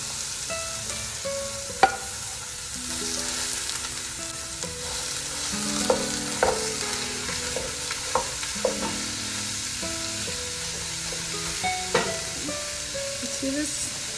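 Two pounds of beef fry in a hot pan, a steady close sizzle broken by scattered clicks and clanks of stirring, with no talking.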